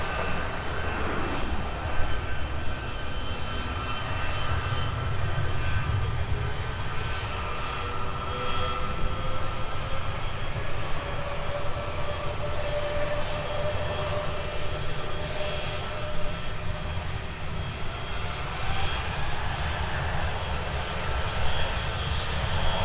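Airplane taking off at Minneapolis–Saint Paul airport, a steady, roaring engine drone that holds strong and constant for the whole stretch, heard from a moderate distance with no talk.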